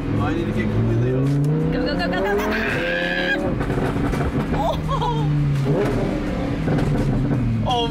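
Close-up roar of a sports car in Corsa mode pulling hard, the engine pitch sweeping upward through repeated revving bursts with a possible tire squeal, as voices chatter over the drive.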